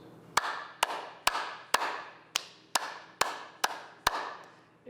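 A group of seniors claps hands together in unison, nine sharp, evenly spaced claps about half a second apart, close and clear with no talking.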